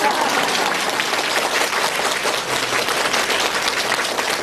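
An audience at a Buddhist gathering in Melbourne applauds, with dense, steady clapping filling the whole stretch and no speaking over it.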